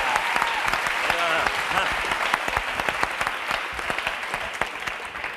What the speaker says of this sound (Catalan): Vinga, vinga, aquest aplaudiment.